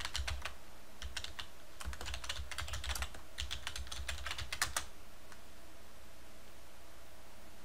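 Quick clicking keystrokes on a computer keyboard as a network restart command is typed, a steady run of taps over faint background hiss, then the typing stops.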